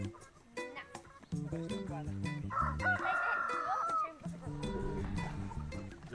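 Free-range chickens and a rooster on a farm in rural New Zealand cluck and crow continuously at close range, with a long crow in the middle and a person talking over them.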